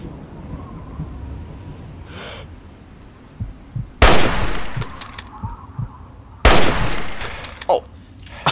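Hunting rifle shots in modded Fallout 3, two loud sharp cracks a couple of seconds apart, each with a short ringing tail over a quiet ambient background.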